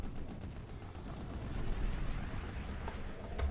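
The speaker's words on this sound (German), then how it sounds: "ich nehme die Kanone aufs Korn. Die dort unfreundlicherweise auf uns schießt." A steady rumble of heavy cannon booms with crackling bursts, continuous and fairly loud, from a battle in the video game Project Nomads.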